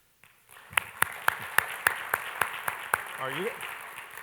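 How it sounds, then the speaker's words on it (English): A small crowd at a workplace department gathering claps in a steady, evenly spaced rhythm of sharp hand strikes, with a voice briefly speaking near the end. "Now this crowd is into clapping"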